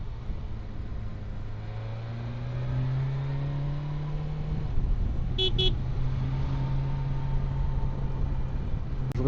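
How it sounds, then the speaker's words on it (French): A BMW S1000XR motorcycle's horn gives two short, sharp beeps midway, set against a steady low engine drone and road noise as the bike moves along. "J'aurai plus de klaxon à la fin du séjour."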